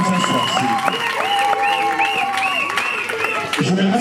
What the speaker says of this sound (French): Applaudissez pour Monsieur Bengamassa.